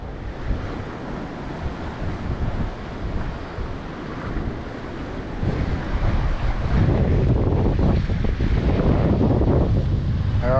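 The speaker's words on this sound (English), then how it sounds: "I thought these waves would take more of that seaweed out, and they just jam-packed it all up in there." Waves driven by Hurricane Larry crash and wash over rocks along a seaweed-choked shoreline where a wrecked boat sits, a steady roaring surf with wind buffeting the microphone, swelling louder in the second half.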